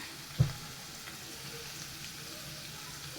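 Garlic and ginger sauté in a pan, giving a soft, steady sizzle throughout, with one brief knock of the stirring spoon near the start.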